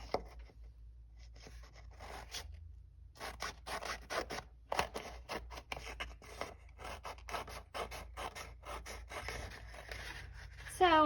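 Scissors snip and rasp through paper in a busy, continuous run of cuts, close up, with a brief louder sound at the very end.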